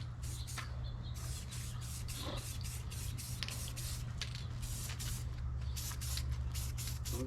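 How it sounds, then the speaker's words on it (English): White spray paint hisses onto an FMS Ranger model in short repeated bursts, a close, quiet airy spray broken by brief gaps, with a few light scrapes and handling noises. "I'm just giving it a good little mist of paint on there"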